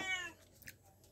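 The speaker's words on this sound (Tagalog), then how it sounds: "Miyaw ka lang naman, miyaw." A cat gives a single close, clear meow that falls in pitch, followed by quieter background noise.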